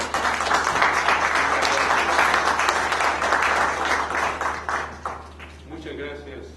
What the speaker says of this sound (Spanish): Tomás, por favor, un aplauso,